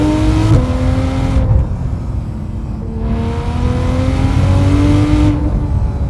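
A 2016 Porsche 911 GT3 RS engine revs hard in first gear from about 3,000 RPM, climbing in pitch in repeated loud surges with brief gear-change dips, close and continuous.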